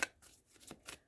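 Tarot cards shuffled by hand in a fairly quiet room, giving four or five soft, crisp riffling bursts in an uneven rhythm, close to the mic with nothing else heard.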